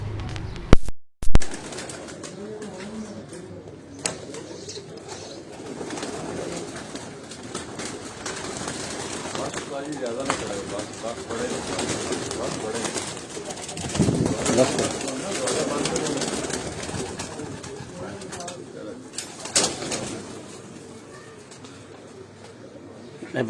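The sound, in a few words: breeder pigeons cooing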